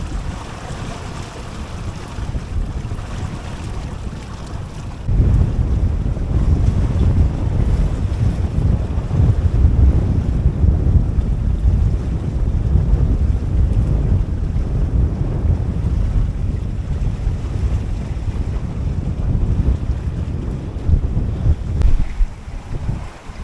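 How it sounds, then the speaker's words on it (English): Strong wind at sea buffets a 21ft sailboat on a solo Atlantic crossing, a loud continuous roar of gusts and microphone rumble mixed with rushing waves, growing heavier after the first few seconds. "The wind has picked up quite a bit."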